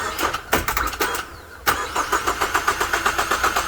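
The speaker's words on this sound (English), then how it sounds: "the engine is turning over just from me manually connecting those two pins together" A 2017 Ford Mustang engine cranking on a starter powered by hand across two pins: a short burst of rapid rhythmic turning-over, a brief pause, then a longer steady chugging crank, loud and close.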